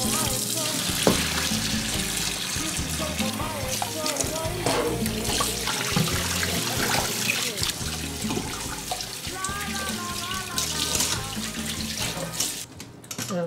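Water from boiling ox bones for Korean seolleongtang pours out of a pot into a sink in a steady rushing stream, followed by splashy rinsing, with a person speaking over it.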